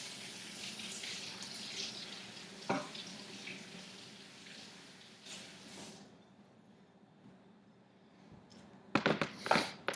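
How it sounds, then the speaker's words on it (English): Tap water runs into a sink while carrots are rinsed underneath, a soft continuous stream with a few splashy bursts toward the end, fairly quiet and close. "Quick rinse them under water."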